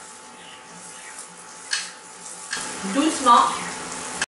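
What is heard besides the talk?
hot oil poured over frying semolina beignets (sfenj)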